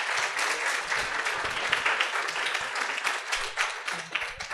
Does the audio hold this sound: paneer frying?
no